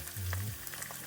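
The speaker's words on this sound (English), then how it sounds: "The lieutenant starts the morning in the FM2 shelter on the HX60 by frying eggs fresh from Marcus chickens for the men." Eggs frying in a pan inside the FM2 shelter on an HX60 truck, a faint, steady sizzle with small crackles and a brief scrape of stirring.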